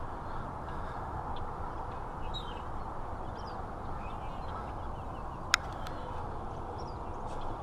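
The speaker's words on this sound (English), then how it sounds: "As you can hear, the birds are going crazy." Outdoor bird calls, including crows, scattered over a constant broadband background wash, with brief chirps and one sharp click partway through, fairly distant and faint.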